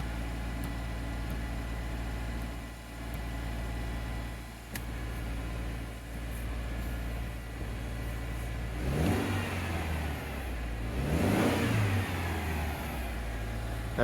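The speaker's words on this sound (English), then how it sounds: "If I tap on the gas, get an idea for the response of the tachometer reading." A car engine idles steadily on a cold evening, then revs twice in quick succession as the gas pedal is tapped, each rise swelling and falling back to idle, close and moderately loud.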